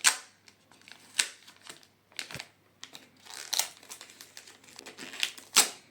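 Plastic crinkles and rustles in irregular bursts, close by, as a DJI Mini 4 Pro drone part is pulled out of its plastic bag; no talking.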